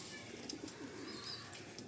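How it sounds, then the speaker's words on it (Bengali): Madrasi pigeons coo softly and quietly, low murmuring calls repeating over a faint steady background hiss, with no voices. "এই হলো ভাইয়ের শখের পায়রা।"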